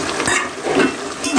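Chopped tomato frying with dried chepa shutki fish and potatoes in a pan, stirred steadily, with a continuous close sizzle and repeated scraping strokes of a spoon against the pan.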